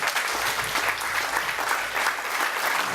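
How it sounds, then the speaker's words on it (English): Steady, dense applause from a music festival audience, a continuous wash of many hands clapping at close range with low murmur beneath, holding even for the full three seconds. "please give a round of applause for them too."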